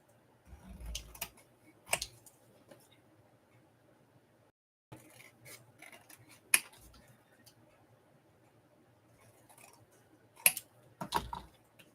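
Scissors make a few short crisp snips while trimming out a paper craft piece. The cuts come in small clusters separated by quiet pauses.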